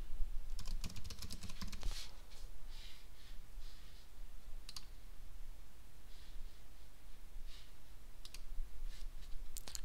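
Close keystrokes on a computer keyboard as a password is typed, with a quick cluster of clicks early, then sparse single taps over a steady background hiss.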